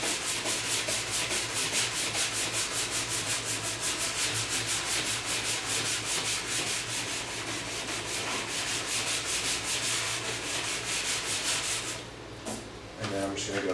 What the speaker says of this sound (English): I'm going to rub out the tail a little bit as well.